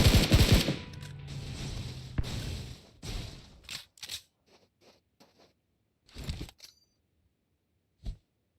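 An M16A4 rifle fires single taps in a competitive shooter match: a dense early burst of shots, then sparse separate cracks and faint clicks with quiet gaps between them.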